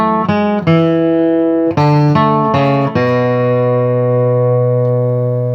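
A guitar, picked in bluegrass crosspicking style, plays the melody of a song. A short run of plucked notes opens it, then a held note rings out and fades slowly, clear and close with no voice.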